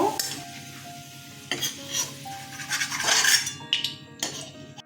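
Onions fry in hot oil in a pan, sizzling steadily while a utensil stirs and scrapes them with several clear metallic knocks and clinks close by.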